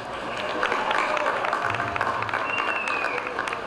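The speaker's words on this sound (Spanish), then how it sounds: "y un grande aplauso." Crowd applause at a Ferrol town festival concert, broad clapping mixed with crowd murmur and a faint whistle, swelling then easing slightly.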